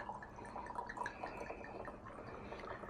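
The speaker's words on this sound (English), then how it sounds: "we're just gonna pour ourselves a glass of this delicious nectar of the gods" Chilled Chardonnay, vintage 2023, poured from the bottle into a glass, a steady trickling, dripping stream of liquid that runs for a few seconds at moderate, close level without talk.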